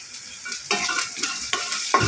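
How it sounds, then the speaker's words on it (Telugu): Turmeric is stirred into hot oil for a bottle gourd milk curry, a close, loud sizzling hiss that surges with each stir in short bursts. "ఈ ఆయిల్లోనే పసుపు కూడా వేసేద్దాము నూనెలో కనుక పసుపు వేస్తే"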